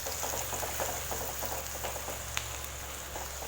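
Small onions sauté in a pan with a continuous, even sizzle and crackle that stays at a moderate level throughout, with no voices.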